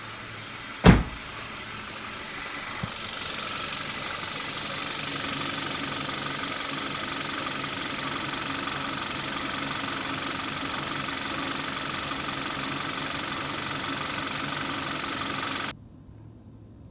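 A Kia car engine cranks and catches with a sharp burst after a crankshaft position sensor replacement, then settles into a steady, even idle that holds close and unbroken until it cuts off near the end.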